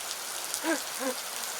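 Steady rain falling in a continuous close hiss, with two brief chirping tones rising above it midway.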